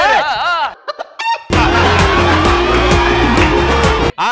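A rooster crows briefly at the start of a cockfight comedy skit on a Telugu TV stage show, then loud, dense crowd and stage noise swells in and fills the rest.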